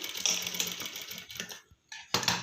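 A sewing machine stitching a ruffle sleeve, its rapid, even mechanical chatter running close and loud, pausing briefly with near silence, then starting again.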